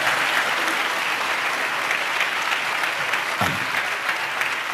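A church congregation applauding together, a dense, steady wash of many hands clapping that holds loud and even from start to finish.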